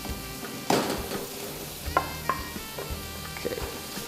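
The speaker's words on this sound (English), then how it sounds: "So celery is going in now." Celery tossed into a hot pan for a stir-fry-style start, giving a steady frying sizzle with a few clattering stirs and knocks against the pan.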